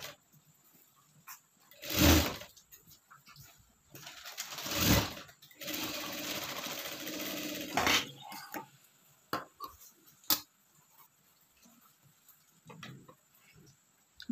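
A sewing machine stitches fabric for a blouse in short bursts, with quick whirring runs separated by pauses filled with faint handling clicks and rustles, close and fairly quiet.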